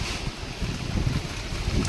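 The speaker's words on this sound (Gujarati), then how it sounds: "જોઈ લો ભાઈ કેવો વરસાદ જામ્યો. પવન એવો છે એટલે પવન આની કોર છે." Heavy rain and strong wind during a downpour at Bhavnath in Junagadh, a loud, dense, continuous rush with gusty buffeting close to the phone's microphone.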